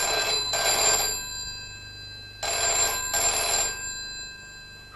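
A mid-1980s BT telephone bell rings in two loud, close double bursts separated by a pause, with a bright metallic tone and no voices over it.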